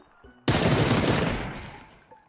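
A loud, close burst of gunfire in the video game PUBG erupts suddenly and then tails off over about two seconds, following a brief faint lead-in.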